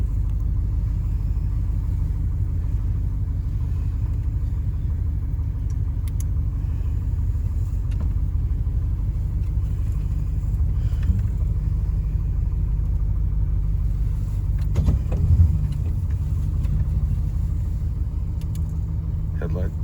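An LS-swapped square body dually truck backing up slowly, a steady low engine rumble close by with a slight swell near the end, while people talk over it.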